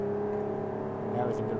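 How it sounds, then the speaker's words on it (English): A car engine in the BeamNG driving game holds a steady, even drone as the clutch is let out, its pitch lifting slightly near the end, with talk over it. "slowly release the clutch and let it find its RPM while bringing up the throttle, make it nice and smooth"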